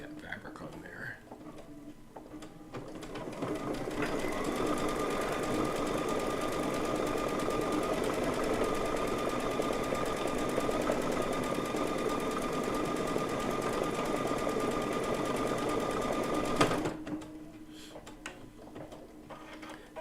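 A sewing machine runs a steady, continuous appliqué tack-down stitch on quilt fabric for about twelve seconds, a close, even mechanical whir that starts abruptly and stops abruptly, with soft talk around it.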